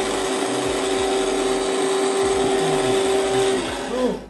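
An electric grinder runs steadily, whirring and grinding coffee for Arabic coffee, with a heavy object resting on the lid; the motor whine holds loud and constant, then winds down near the end.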